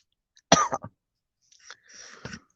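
A short burst of coughing, a couple of harsh coughs close up, followed after a pause by a rougher throat-clearing cough.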